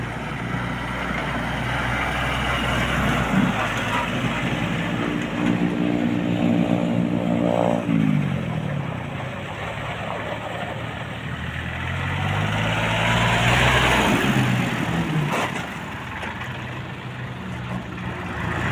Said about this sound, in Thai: เครื่องยนต์นิ่ม ๆ เลยนะครับ